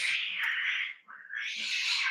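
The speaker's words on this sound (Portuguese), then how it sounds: "as gatas estão brigando aqui" Female cats fighting indoors, a sustained harsh caterwauling yowl that breaks off briefly and then resumes, loud and close, with no talking.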